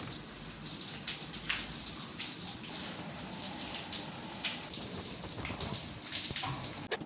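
Rain falls steadily on a rainy day, a dense, even patter of drops on surfaces with a few louder splashes, continuous and fairly close.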